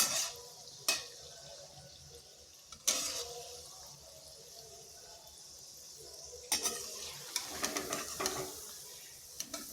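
Cashew-shaped wheat-flour biscuits frying in oil in a wok, a soft, quiet sizzle broken by a few sharp clinks and scrapes of stirring.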